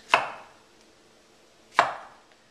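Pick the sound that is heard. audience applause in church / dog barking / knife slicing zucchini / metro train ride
knife slicing zucchini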